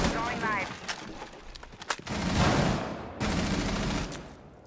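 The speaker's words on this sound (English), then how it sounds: "As another grenade is going to go down." A PC shooter game match in an ESL community cup, with bursts of rapid gunfire and a heavy blast-like roar, crackling in loud stretches under a commentator's voice.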